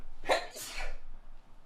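A single sharp sneeze in two quick bursts, close and fairly loud, followed by quiet breathing.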